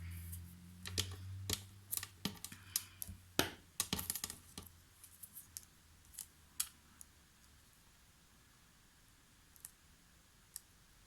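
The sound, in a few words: cutting paper card edge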